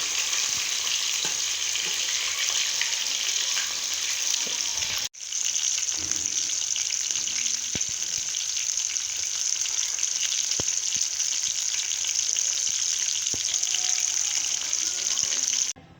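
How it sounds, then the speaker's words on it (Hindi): Chicken and potato tikka deep-fry in oil with a dense, continuous bubbling hiss that cuts out for a moment, then resumes just as strongly, with a few faint clicks. "डीप फ्राई करने से ये आलू भी सही हो जाएंगे और चिकन भी हमारा गल जाएगा।"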